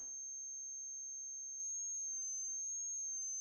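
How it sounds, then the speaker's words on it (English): A steady, clean sine tone holds alone at moderate level, its pitch wavering gently in a slow vibrato, with a brief click partway through. "I'm going to apply a little pitch modulation just to make it"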